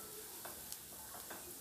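Egg balls frying in hot oil for Egg 65, a soft, faint continuous sizzle with light crackles and a few small pops, heard close and alone.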